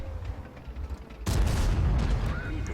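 A sharp, loud tank-gun impact rings off armor in World of Tanks during an Object 252U match, a sudden broadband crack with a ringing tail over steady engine rumble.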